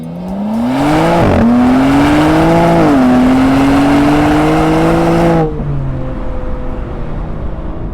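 Engine of a 2021 BMW M3 G80 accelerating hard, a loud rising drone climbing through the revs with a brief dip at a gear change, then cutting off to a quieter steady cabin hum.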